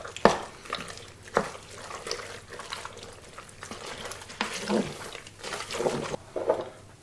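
Cream is stirred into pasta and turkey in a Cookeo, giving soft, wet squelching and scraping with a few sharper spoon knocks against the pot.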